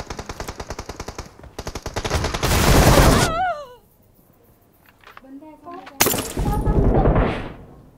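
Rapid automatic gunfire in the mobile video game PUBG Mobile on the Erangel map, loud close bursts in quick rhythm, then a pause with someone talking, then another burst.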